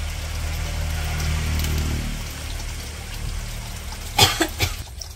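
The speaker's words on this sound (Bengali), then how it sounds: "ঠান্ডা লাগছে, খালি কাশ হয়।" Someone with a cold coughs twice near the end, short harsh bursts close by, after several seconds of low engine-like rumble and background noise.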